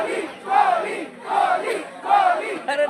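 A crowd of spectators at a Ranji Trophy cricket match in Arun Jaitley Stadium chants and cheers in loud rhythmic surges, roughly three swelling shouts rising and falling close by.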